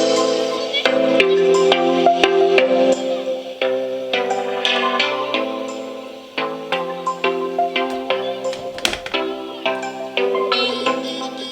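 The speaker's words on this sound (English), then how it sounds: "Let's check out some copyright-free music here." Copyright-free music plays through a SHIDU Bluetooth speaker: a steady melodic track with plucked, rhythmic notes at moderate volume, with no talking over it.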